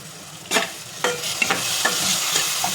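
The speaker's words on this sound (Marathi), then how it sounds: "त्याच्यामध्ये मी जे चिंचेचं पाणी करून घेतलेलं आहे ते टाकून घेते" Tamarind water goes into a hot tempering for stuffed bitter gourd, raising a close, loud sizzle with several sharp spoon scrapes spaced about half a second apart.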